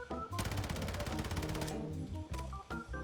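A fast-firing sniper support gun in a video game lets off a rapid, even burst of shots lasting over a second, followed by a couple of shorter bursts, punchy and close over a low game soundtrack.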